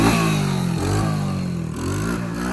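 A Honda three-wheeler's engine revs up and down on the throttle, a loud, close, steady mechanical drone that rises and dips in pitch across two throttle blips.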